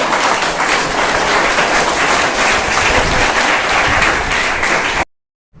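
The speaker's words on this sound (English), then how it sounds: "And clap for Aditya also" An audience at a school Class 8 biology quiz claps steadily and loudly for about five seconds, then the applause cuts off abruptly into silence.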